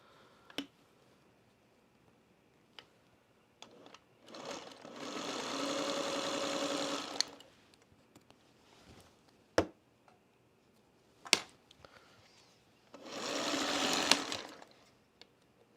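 A sewing machine stitches fabric in two bursts of fast, even whirring and chattering, separated by quiet pauses with scattered sharp clicks and taps.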